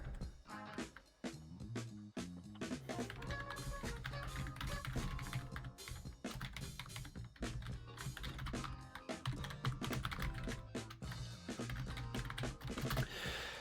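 Fast typing on a computer keyboard during a competitive Biter Battles game match, rapid clattering keystrokes running continuously under loud game music and effects.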